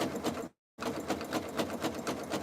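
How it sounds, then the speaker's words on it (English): Home sewing machine running a zigzag stitch while sewing a jelly roll fabric rug, a steady rapid mechanical whir with rhythmic needle pulses, briefly stopping and then resuming at the same pace. "This machine doesn't go much faster on the zigzag stitch, but I also don't have missed stitches with it"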